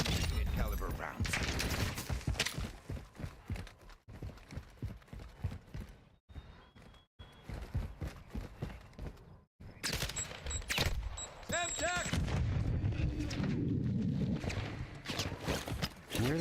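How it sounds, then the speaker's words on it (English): Gunfire in the Black Ops 6 video game, with rapid bursts of automatic fire and scattered shots broken by brief pauses, mixed with horse hooves and other game effects while players talk over it. "Taking fire!"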